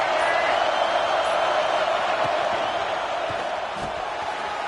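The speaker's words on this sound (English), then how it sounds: "This crowd ready to make its presence known" Steady stadium crowd roar in the College Football 26 video game at a Michigan game, a dense continuous wash of many voices holding at an even level without a break.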